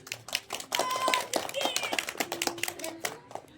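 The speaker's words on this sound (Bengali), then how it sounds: "দারুণ, হাততালি দাও" Children clap in a short burst during an outdoor game, quick uneven claps over lively kids' chatter and an adult voice speaking.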